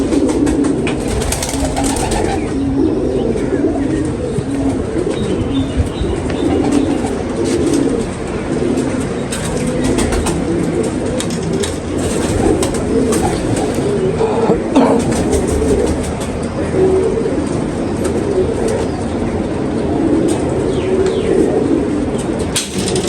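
Pigeons coo steadily and continuously in a loft of crossbred pigeons, including golden-cross females, with soft overlapping throaty calls, occasional chirps and a constant background rumble.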